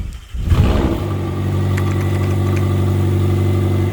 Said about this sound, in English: we're gonna test the exhaust note.